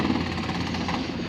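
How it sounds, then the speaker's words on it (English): A jackhammer pounds at a construction site near a river, a continuous dense rattling hammering throughout, fairly loud and steady with no voices. "there's construction if you hear the jackhammer going on"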